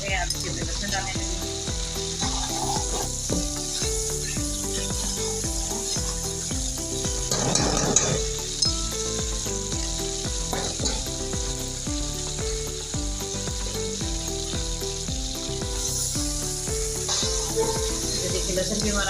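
Garlic sizzling in hot oil with browned onions in a pan for a dhaba-style mash daal, a steady dense fry with occasional stirring scrapes, close and continuous under soft background music.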